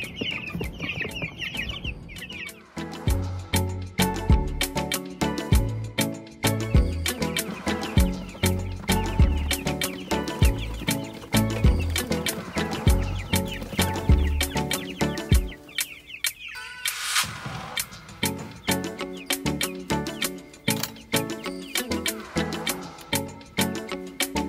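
Cornish Cross meat chickens cluck steadily in a close, busy chorus, with overlapping calls and a brief louder burst partway through, and no talking over them.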